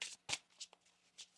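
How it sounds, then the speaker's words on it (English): Tarot cards shuffled by hand in a few quick riffling bursts, soft and close, with short pauses between the rustling flicks. "One more shuffle here."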